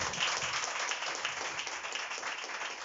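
A church congregation applauds during a service, a dense, steady wash of many hands clapping at an even level for a few seconds without pause.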